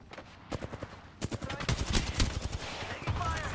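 Rapid bursts of video game gunfire with a sharp explosive blast from an Apex Legends firefight, dense and loud throughout with clustered shots and brief quieter gaps.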